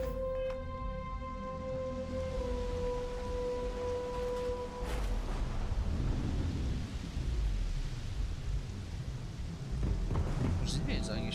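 Thunder in the Starfield video game: a deep rumbling crack rolls in and sustains under a steady rain-like wash, following a fading tonal hum, with a voice talking over it.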